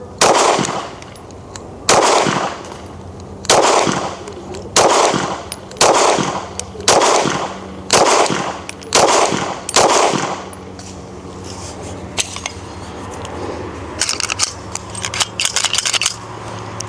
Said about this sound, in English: I'm just gonna shoot a group, just to show you guys how I'm able to group with this gun.